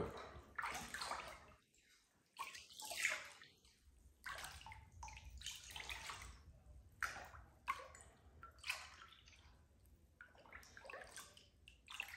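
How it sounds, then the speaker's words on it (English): Kava being stirred in water, with close sloshing, gurgling and dripping in irregular bursts, fairly faint overall. "you always want to stir that kava up nice and settle"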